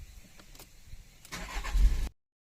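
A 2015 Volkswagen Amarok with a hard-starting fault briefly cranks and catches, its engine running for under a second at close range before cutting off abruptly into silence.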